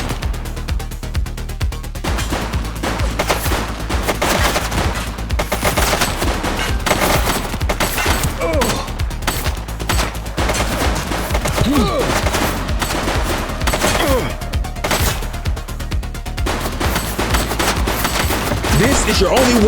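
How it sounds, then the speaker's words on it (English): Dense, continuous gunfire from a police shootout in the video game The Precinct crackles in rapid overlapping bursts for the whole stretch, with only faint voices buried underneath. "She's shooting!"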